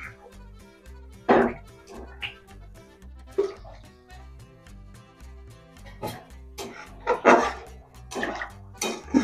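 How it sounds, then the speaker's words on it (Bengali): Water is poured into sautéed spice masala in a pan while making Bengali sabu khichuri, giving quiet, irregular splashes and sizzling bursts at close range. "এবার এর মধ্যে আমি পরিমাণ মতো জল দিয়ে নিলাম"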